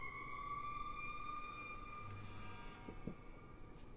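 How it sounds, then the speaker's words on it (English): Sirens wail through a night city, tonal whines holding steady at moderate distance over a low street rumble, with a brief louder rise near the end. "You can probably all hear the sirens."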